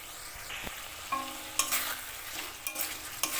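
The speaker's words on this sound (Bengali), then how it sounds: "মশলার সাথে আলুটা একটু মিশিয়ে নিচ্ছি" Fried potatoes are stirred into spice masala in a pan, the spoon scraping in several uneven strokes over a soft sizzle, close and fairly quiet, with no voices.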